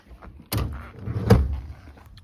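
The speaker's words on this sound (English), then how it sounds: "let me shut this other door" A 1995 Toyota Land Cruiser KZJ73 70 Series convertible door is pushed shut, with a thudding close, a second heavier latch thump moments later, and a short muffled rattle in a quiet setting.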